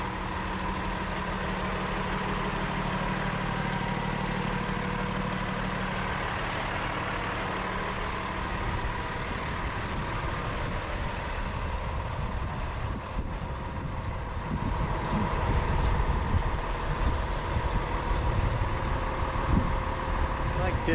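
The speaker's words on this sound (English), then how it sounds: "Motor will get loud here in a minute." An RV motor runs in a steady low rumble that grows louder and rougher in the second half, with someone speaking briefly over it.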